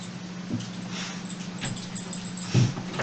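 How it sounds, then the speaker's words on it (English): A pet dog sniffs in short, soft bursts close to the microphone in a podcast studio, over a low steady electrical hum, with a louder snuffle near the end. "My dog is here on the podcast."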